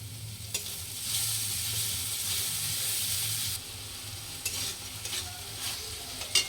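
Masala spices sizzling in a pan with kasuri methi, a steady fry hiss swelling in bursts as a spoon stirs and scrapes, with occasional clinks near the end.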